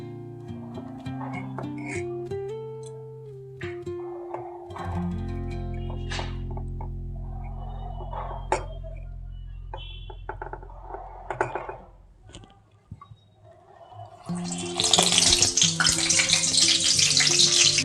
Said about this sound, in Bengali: এবার গিয়ে ভাজার পালা। তো চলুন ভাজা দেখিয়ে দিই।